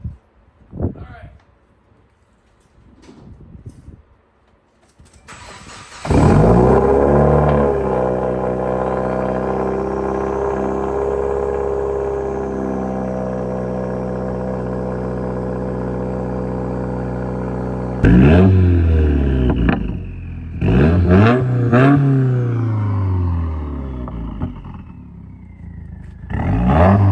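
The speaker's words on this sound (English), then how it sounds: "First cold start, baby." Subaru WRX engine with a new TurboXs downpipe cold-starts loudly after a quiet stretch, settling into a steady high idle, then revving in a couple of blips near the end while someone talks over it.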